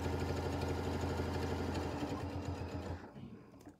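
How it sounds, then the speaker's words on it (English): Close-up sewing machine stitching along the edge of a Christmas stocking, a fast steady mechanical whir with rapid needle ticks that slows and stops near the end. "I'm just going to stitch right along that edge"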